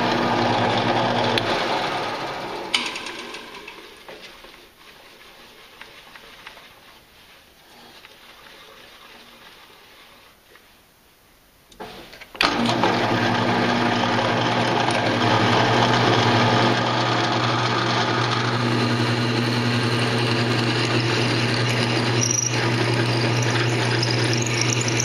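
A power drill whines steadily as it bores into metal while fitting a 68mm throttle body on a Jeep 4.0 engine, quieter at first, then running loud and continuous for the second half.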